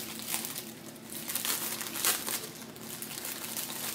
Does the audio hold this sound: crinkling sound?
yes